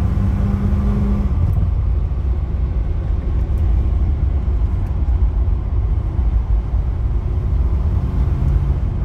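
A 1989 Aston Martin Lagonda Series 4 is driven hard, its engine and road noise forming a steady loud rumble from inside the car, with a brief lower tone near the start.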